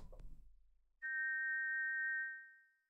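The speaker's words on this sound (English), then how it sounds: "You put the shiny silver whistle to your lips and forcefully blow into it, producing a loud tweet." A shiny silver whistle blown hard in King's Quest 4 gives one loud, steady tweet of nearly two seconds, starting abruptly after a short rumble and fading at the end.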